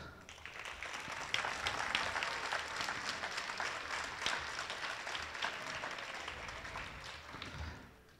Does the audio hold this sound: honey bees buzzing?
no